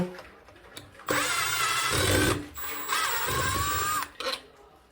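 Power drill backing out screws from a light switch cover, several whirring bursts of a second or so each with short pauses between, close and fairly quiet.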